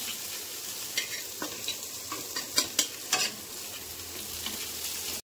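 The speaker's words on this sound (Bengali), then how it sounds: "একটু বরবটি দিয়ে, আলু দিয়ে, পেঁয়াজ, বাদাম, ডিম দিয়ে চাউমিন বসিয়েছি মা বাবার জন্য" Chow mein with long beans, potato, onion, peanuts and egg sizzles in a pan, a steady close frying hiss broken by clinks and scrapes of a spatula stirring, with no voices.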